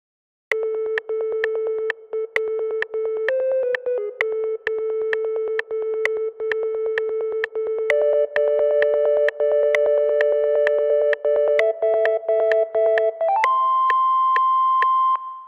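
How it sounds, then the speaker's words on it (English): A pure, beeping sine wave synth in FL Studio plays a fast staccato melody of short repeated notes, stepping up in pitch and ending on a held note. "I used a sine wave to write the melody"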